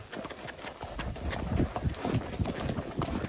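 A buckskin gaited gelding cantering on a trail without a bridle, its hoofbeats thudding in a quick, rolling rhythm close by, steady and fairly loud against a quiet outdoor background with no speech.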